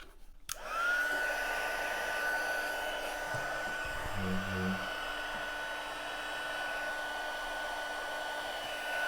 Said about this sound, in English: So let's get my heating tool started, and we'll heat that up.